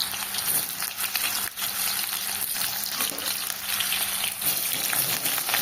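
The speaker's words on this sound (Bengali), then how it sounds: "সর্ষের তেলটা গরম হয়ে গেছে, এবার এঁচড়গুলো আমি ভেজে নেব।" Young jackfruit pieces fry in hot mustard oil in a wok, giving a steady, close hiss and crackle with faint stirring scrapes throughout, no voices present.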